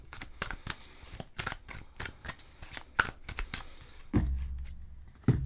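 A tarot card deck being shuffled and cut, rapid close riffles and flicks of cards over several seconds, ending in a couple of soft thumps as the deck is set down, with no talk.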